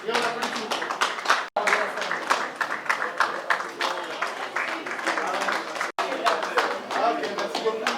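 Guests applaud together at a civil wedding ceremony, a dense, steady patter of many hands clapping for several seconds, close and sustained, with voices mixed in.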